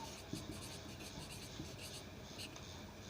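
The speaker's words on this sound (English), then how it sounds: "So we'll write here salary." Pen writing on paper, soft faint scratching with short strokes, quiet and close, with a low background hum and no talking.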